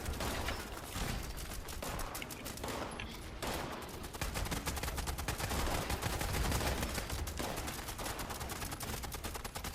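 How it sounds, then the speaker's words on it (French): Dense, continuous gunfire from a battle in the video game Fallout 76, with rapid overlapping shots and bursts sustained loudly throughout. "y'a quelqu'un qui tire Mike"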